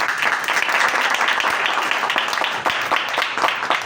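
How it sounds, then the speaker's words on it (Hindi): Enthusiastic applause from a church congregation during a Hindi-Urdu sermon, a steady patter of many hands clapping throughout with faint voices underneath. "यीशु मसीह के जलाल के लिए जोरदार तालियां।"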